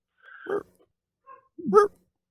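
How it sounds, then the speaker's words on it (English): A dog gives two short, close barks separated by a brief pause, with a faint yelp between them against near silence. "Now I hear your dog."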